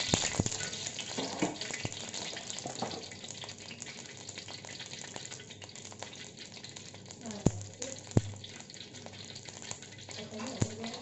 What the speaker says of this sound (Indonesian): Ikan asin kita lanjut menggoreng ya. Kita beri minyak.